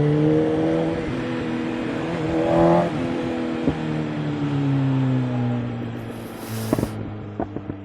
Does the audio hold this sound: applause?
no